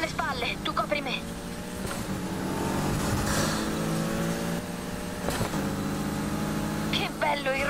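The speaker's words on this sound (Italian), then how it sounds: "Che bello il rombo di questo motore." A car engine roars in Need for Speed Heat as revs rise and fall with gear changes, sustained and close. Voices talk over it, with music and game sounds behind.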